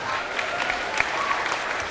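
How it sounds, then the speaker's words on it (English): Applause from a crowd at a South Dakota high school girls' basketball region final, a steady wash of clapping greeting the game officials, sustained and fairly full for the whole moment with no voices over it. "Please give them a round of applause."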